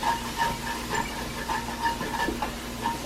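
Stock steaming and gently bubbling in a hot cast iron pot with mushrooms, a steady soft hiss with faint irregular clicks and pops throughout, close and alone.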